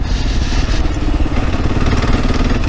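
Kawasaki KLR650 motorcycle engine running steadily on a ride through Michigan's Upper Peninsula, a continuous loud, rough mid-range drone with wind noise and no breaks.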